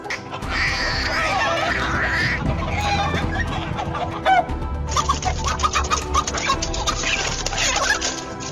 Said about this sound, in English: a hen swoops down on a hawk that is attacking its chicks.